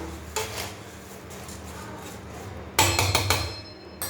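A spoon stirs a spicy puffed rice snack mixture with onion, tomato, mint and coriander in a pot. A faint scrape runs under a quiet room, then a short burst of sharp metal clanks and knocks against the pot rim.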